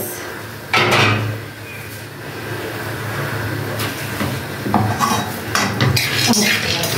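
Peanuts dry-roasting in a hot pan for homemade tahini are stirred with a utensil, giving a steady close scraping and rattling that continues throughout.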